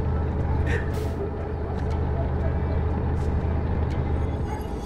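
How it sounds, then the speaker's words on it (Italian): Iveco Turbo Star truck with a 640 hp engine, running in the Euro Truck Simulator 2 game, makes a steady, loud low drone throughout, with brief hissy bursts over it. "col Turbo Star difficilmente ti addormenti, perché il rumore è bello forte"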